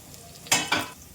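Green chillies and carrots frying with spices in a pan for biryani, two loud close bursts of sizzling and stirring rising over a low background hiss.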